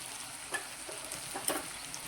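Spices, red chili powder, asafoetida and coriander-cumin powder, stirred into hot oil: a soft, steady sizzle with a few light scraping strokes, faint and close.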